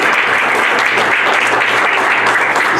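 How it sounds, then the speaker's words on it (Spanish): A church congregation bursts into loud, close, continuous applause, many hands clapping in an even wash throughout. "gloria a Dios, tenemos un aplauso."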